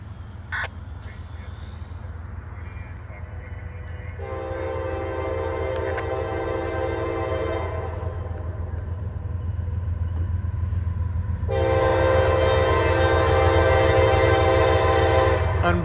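A long freight train, the I-158 stack train from Ohio to Baltimore with 472 axles, rumbles steadily past close by while its horn sounds in two long, loud blasts. No one speaks.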